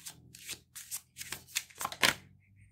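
Tarot cards are shuffled by hand close up, with a series of quick riffling bursts and soft slaps in an irregular rhythm, no voices.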